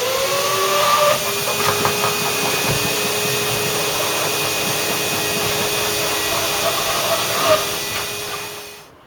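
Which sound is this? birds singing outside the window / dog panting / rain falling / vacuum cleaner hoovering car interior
vacuum cleaner hoovering car interior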